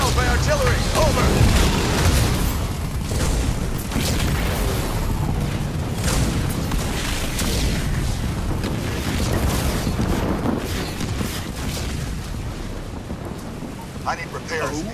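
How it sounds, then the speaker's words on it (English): Artillery shelling in the real-time strategy game Halo Wars 2, a continuous dense rumble of booming blasts and crackling debris filling the whole stretch, loud and sustained with no clear gaps. "I'm getting shelled by artillery."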